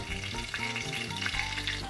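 A large chicken schnitzel cutlet fries in a pan, a dense, even crackling sizzle filling the brief moment without any voices.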